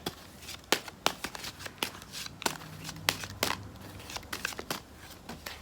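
Tarot cards are shuffled and flipped over close by, giving a quick, irregular run of crisp snapping and riffling clicks, fairly quiet, with no talking over them.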